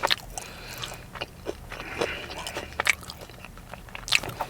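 Several crisp, close bites into a Wingstop crispy chicken tender, scattered sharp crunches and chewing over about four seconds with no talking.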